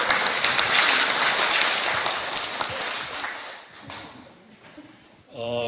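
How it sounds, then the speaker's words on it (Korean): Audience applause fills a book concert for a poetry anthology, a dense wash of clapping that swells then thins and fades, with a voice starting to speak at the end. "박수로 맞아주세요"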